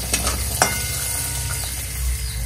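Green peas frying in hot oil in a pan, a steady close sizzle with a few sharper pops and crackles, heard alone without speech.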